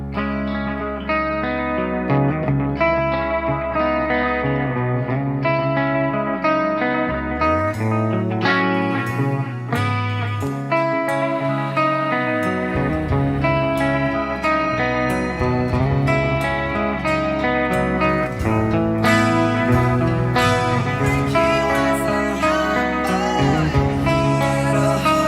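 Electric guitar jam played through a multi-effects unit with distortion and chorus, loud and sustained, with a deep bass-like drone under strummed chords and sharp picked notes, alone and without talk.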